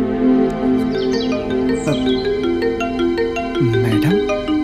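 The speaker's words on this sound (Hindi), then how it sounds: "फोन करती हूँ राजू को" A bright melodic phone ringtone plays continuously, tuneful electronic notes rising and falling, loud and near, with no talking.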